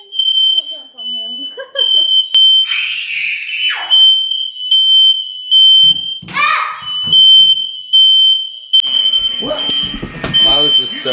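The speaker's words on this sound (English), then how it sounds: "The fire alarm just went off in the house." A shrill smoke alarm in a house beeps on and off throughout while people talk and call out over it, with some thumping movement near the end.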